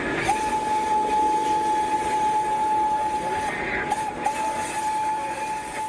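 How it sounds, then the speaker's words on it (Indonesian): A toy Thomas train whirs steadily along its track with a constant motor hum and faint rattling, close by, running without pause. "ada kereta api Thomas."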